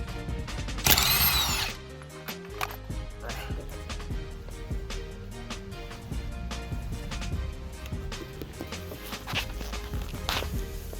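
Impact wrench or power drill spinning off the 19 mm steering wheel nut on a Nissan R33 Skyline, a brief loud whir near the start followed by quieter clicks and handling noises in a garage.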